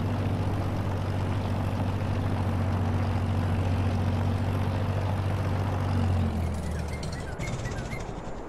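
A tractor engine in a farming video game runs at a constant loud idle, a heavy steady low rumble that drops off near the end as the throttle eases, with a faint clatter after.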